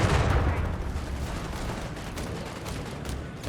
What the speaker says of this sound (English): Great shot from the anti-tank half-track onto the Stummel